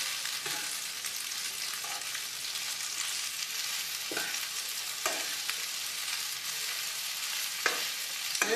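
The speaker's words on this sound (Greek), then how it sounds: "Ανακατεύουμε." Pasta with grated cheese stirred in a hot pan: steady, soft sizzling throughout, broken by a few scraping clinks of the spoon against the pan, with no talk.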